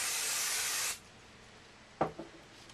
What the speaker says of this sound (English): I'm going to give it a little spray of stick and spray first of all